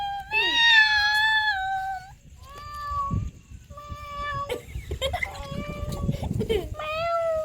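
During a truth-or-dare game, a person imitates a cat with several drawn-out, nasal meows, loud and close, followed by laughter and chatter from others in the room.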